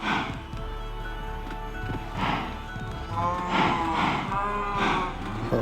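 A herd of cows in Minecraft moos repeatedly, several drawn-out calls overlapping one another at a steady, fairly loud level, with a faint thud of movement underneath and no speech.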